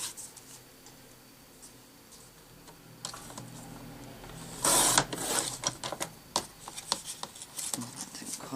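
Paper being cut by hand for a shabby lace and paper book, a dense run of crisp snips and rustling scrapes that gets louder in the second half, with a sharp burst partway through.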